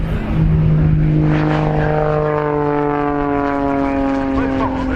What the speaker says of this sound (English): Here she is, getting airborne, Melanie Astle with the Extra EA330.